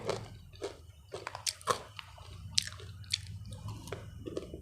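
Someone bites and chews crunchy dried fruit and vegetables close up, with a series of sharp crisp crunches in an irregular rhythm, quiet and without talk.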